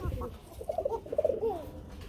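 Egg-laying pigeons kept for sale give several soft, nearby throaty coos in a short rhythmic run, after a brief rustle at the start.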